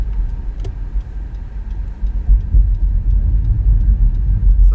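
Road traffic rumbles steadily near an airport station lot during arrivals, with continuous low car engine drone and faint ticking, no voices.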